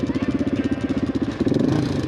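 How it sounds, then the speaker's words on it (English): A Honda XR600R dual-sport motorcycle engine idling close by, chugging in a rapid even pulse, then blipped to a slightly higher, busier rev partway through. "maybe they want me to rev it."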